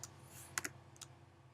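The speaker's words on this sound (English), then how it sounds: "so I typed in the 7, and then to get this exponent I held down the shift button and then the number 6 for the caret top, and then hit the 2" A few scattered keystrokes on a computer keyboard, a quick pair of clicks and then a single later tap, faint and close.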